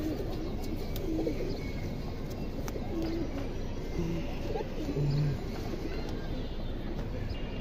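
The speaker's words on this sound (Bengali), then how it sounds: "এটা হাই ফ্লার কবুতর" Indian high flyer pigeons coo in low, soft calls a few times over a steady background hiss, with faint chirps in places.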